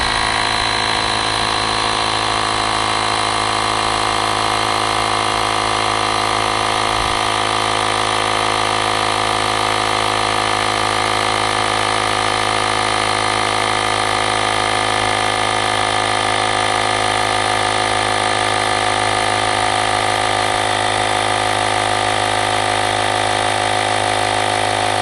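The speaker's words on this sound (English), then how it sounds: "And again, we're going to pump it up to 30." An AUXITO A501 portable air compressor runs loud and continuous, a steady buzzing drone that holds unbroken for the whole stretch while inflating a bike tire, with no voices.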